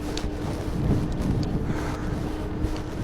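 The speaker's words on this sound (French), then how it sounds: "Ah, il y a un vent, mais je crois que je vais m'envoler" Strong wind buffets an outdoor microphone in a steady, loud rumbling roar with gusty swells, continuous throughout without speech.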